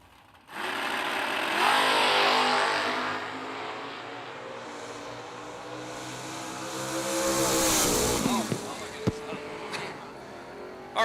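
Race cars roar past at a sponsored race, engines rising to a loud swelling whine around two seconds and again near eight, with a steady mid-distance rumble between passes and talk over the top.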